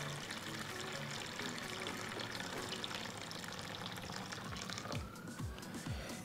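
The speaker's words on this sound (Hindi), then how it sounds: "और पानी डालते हैं हम इसमें" Water pours steadily into a container ahead of a waterproof test on a Vivo V19 phone, a continuous close splashing and trickling wash with no talking.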